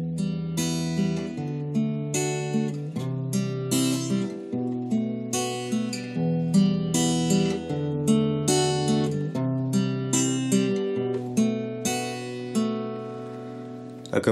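An acoustic guitar plays the intro of a song, using four open chords with no barre. Plucked, ringing notes follow one another in a steady melodic pattern, clear and close, with no talk.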